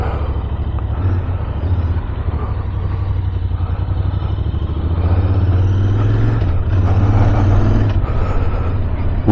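A 2023 Royal Enfield Interceptor 650 parallel-twin engine runs with a steady low rumble that swells slightly in the second half, close and fairly loud with no speech.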